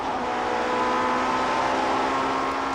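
BMW touring cars racing in the 1989 British Touring Car Championship, one driver downshifting from sixth to fifth on a six-speed gearbox into Hawthorns; a loud, steady engine roar holds throughout with no talk.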